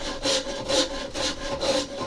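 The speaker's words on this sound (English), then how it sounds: "we have the farrier's rasp." Farrier's rasp working the wood of a carved boat half hull, four even back-and-forth rasping strokes in a steady rhythm, close and clear with no talk.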